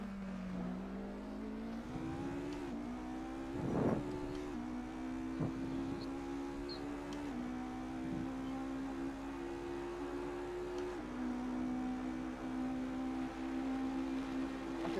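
A race car engine drones steadily along a track on race night, holding a sustained tone that steps up through the gears with brief bumps and knocks, heard from inside the car with no talk.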